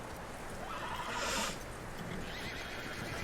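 A horse in Red Dead Redemption 2 gives a loud whinny, with hoof clip-clop in a steady outdoor ambience. No one speaks.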